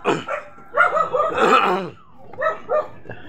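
A dog barks several times in short bursts, fairly close, with brief pauses between the barks.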